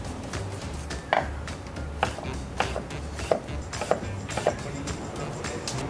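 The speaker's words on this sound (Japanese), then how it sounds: "玉ねぎはみじん切りにしておいてください。" A knife finely chops onion on a board, light irregular taps about every half second against a low steady background hum.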